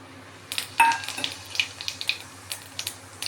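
Fennel seeds sizzling in hot oil in a wok, a scattered run of small crackling pops and spits over a low hum, fairly faint and irregular.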